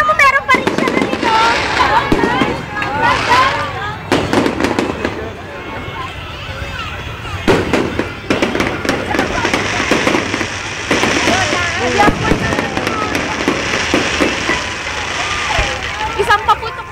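A Christmas night fireworks display at Mall of Asia sends repeated booms and crackling bursts through a crowd, with people talking and shouting throughout over the explosions.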